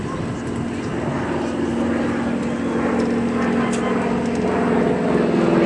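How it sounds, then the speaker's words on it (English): A propeller airplane drones steadily through an aerobatics routine at an airshow, its engine loud and continuous and slowly building in strength, while a commentator's voice is heard over it. "be prepared to see John Skipper Heil in his Air Corps aerobatics routine"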